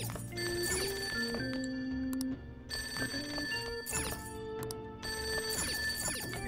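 A payphone rings in the Persona 5 video game, a repeating electronic bell in short bursts over layered game music tones, no talking.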